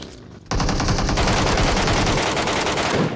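An M762 rifle in PUBG Mobile unleashes a loud, sustained automatic burst of rapid shots after a brief quiet opening, continuing without pause to the end.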